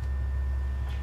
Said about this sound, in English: And on the pedal, we have a 16-foot board unpulled, which is quiet, like this.